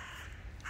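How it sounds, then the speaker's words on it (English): A crow caws once in a park in Switzerland, a short, loud call at the end of a brief stretch of steady outdoor background noise. "Beautiful bird in the park."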